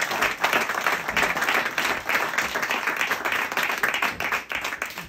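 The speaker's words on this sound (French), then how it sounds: "un tonnerre d'applaudissements pour Léo Ferré" A theatre audience at an improv comedy benefit night gives sustained, dense applause, lively clapping from many hands that stays strong throughout.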